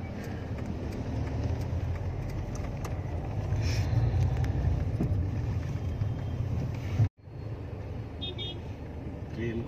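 Inside a moving car, a low steady engine and road rumble fills the cabin, interrupted by a sudden brief cutout near the end before the drone resumes.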